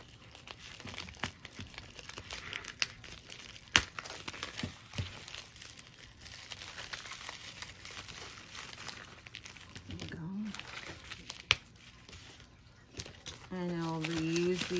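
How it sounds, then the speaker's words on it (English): Plastic bags crinkle and rustle in close, irregular bursts while vintage jewelry, including a black glass cameo brooch and earring set, is unwrapped, with a louder crackling stretch at the end. "And I'll reuse these plastic bags for when I ship."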